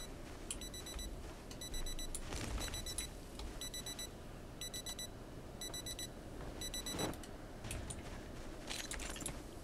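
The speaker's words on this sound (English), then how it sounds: "That's an alarm." An alarm rings in the zombie survival game Project Zomboid, repeated bursts of rapid high metallic ringing at a fairly steady rhythm over a busy, rustling ambient bed, moderately loud and somewhat distant.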